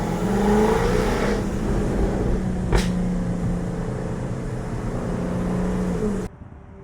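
A Jaguar F-Type R sports car's engine rumbles and rises in pitch through a steady acceleration, with a sharp click midway and the sound cutting off abruptly near the end.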